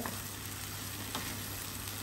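Cactus pieces with oyster sauce being stir-fried in a pan, a steady close sizzle with light stirring scrapes throughout.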